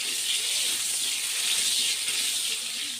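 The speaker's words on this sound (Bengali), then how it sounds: "এবার কেটে রাখা আলুগুলো ভেজে নেব।" Cut potatoes fry in hot mustard oil with a steady, dense sizzle and hiss, close and even for a few seconds with no talking.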